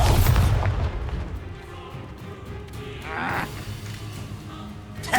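In the video game Hogwarts Legacy, an Expulso spell erupts in a loud, deep boom at the start, then rumbles away under fainter combat noises, with a brief sharp burst at the end.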